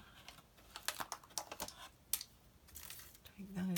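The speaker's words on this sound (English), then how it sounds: "So I can start by removing that loose tape." Loose tape peels off scrapbook yearbook pages in a run of quick crackling rips and ticks, uneven in spacing. Close but quiet, ending in a soft rustle, with no talking.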